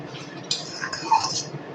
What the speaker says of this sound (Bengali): খুব সুন্দর করে নেড়ে চেড়ে চিনি আর গুড়টাকে আমি গলিয়ে নিচ্ছি আমের সঙ্গে